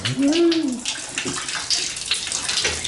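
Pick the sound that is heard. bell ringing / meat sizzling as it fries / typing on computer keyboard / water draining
water draining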